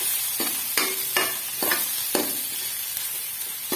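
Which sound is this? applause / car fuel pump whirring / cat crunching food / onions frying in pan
onions frying in pan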